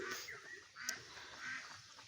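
Ducks on a duck farm give a few faint, nasal quacks and honks in quick succession over quiet background noise, with no talk.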